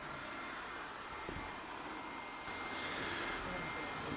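A Lefant M310 Ultra robot vacuum mop runs across a home floor, giving a faint, steady whirring hum with a slight swell partway through. No one speaks.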